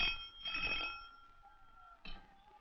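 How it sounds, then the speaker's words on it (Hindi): An old telephone rings in a 1960s Indian setting, a bright electric bell burst followed by a pause and the start of a second ring, fairly close and alone without talk. "यूर हाइनेस, इलेक्शन कमिश्नर का फोन।"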